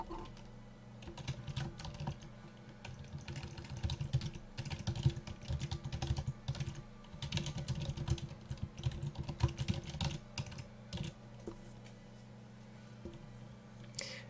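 Typing on a computer keyboard while entering a WordPress post title, a steady run of quiet close keystrokes with brief pauses, over a low electrical hum.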